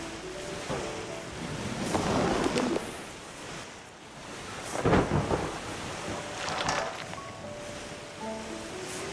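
Rain and rolling thunder in the game Terra Nil, with a steady wash of rainfall and several deep, swelling rumbles rising and fading over a continuous background, no voices.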